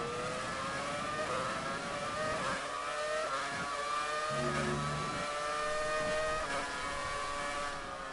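Ferrari Formula 1 car engine in the F1 2019 racing game at the Russian Grand Prix, a continuous high-pitched whine with repeated rising and falling revs through gear changes, steady and close throughout.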